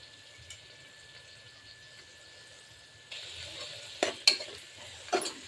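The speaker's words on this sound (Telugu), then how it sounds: "ఉల్లిపాయ పచ్చిమిరపకాయలు వేసి వేయించుకుంటున్నాను" Onions, green chillies and dried prawns fry in a pan, a faint low sizzle that grows louder partway through, with a few sharp clinks and scrapes of stirring near the end.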